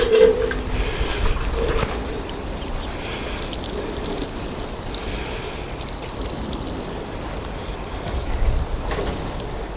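Water splashes and patters steadily onto freshly sown seeds in a garden bed, a continuous close sprinkling hiss with slight swells near the start and end.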